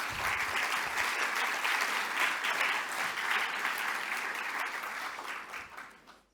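Audience applause for Bolivians working and investing, at a leadership forum, a dense steady clapping that fills the room and then tapers off near the end.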